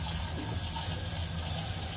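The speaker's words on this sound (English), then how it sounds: "So now I'm washing off that face soap" Tap water runs steadily into a sink while soap is rinsed off a face, a close, continuous splashing rush with no pauses and no talking.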